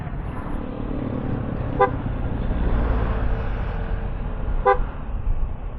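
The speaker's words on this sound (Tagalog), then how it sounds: "PIAA, PIA. Yung pinakabit kong busina." Two short honks of an aftermarket PIAA car horn, separated by a few seconds, rising over steady traffic and engine rumble nearby.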